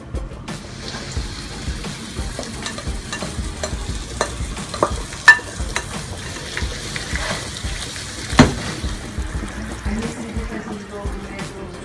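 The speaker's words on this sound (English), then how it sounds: "I put my scallion, tomato, thyme, and sweet pepper in the pot and saute it." Scallion, tomato, thyme and sweet pepper sauté in a pot for Jamaican brown stew fish, a steady close sizzle with scattered stirring clinks and scrapes throughout.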